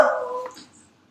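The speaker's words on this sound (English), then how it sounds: "my dog just barked in the background" A dog gives a single short bark or yip, fairly close and loud at first, then fades quickly into quiet with no talking over it.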